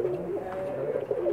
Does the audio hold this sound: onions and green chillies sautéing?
no